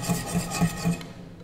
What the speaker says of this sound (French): Nous allons mélanger notre beurre fondu avec le lait